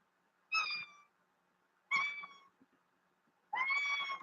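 A house cat meows three separate times, each a clear, fairly close call about half a second to a second long, with short quiet gaps between them and no voices.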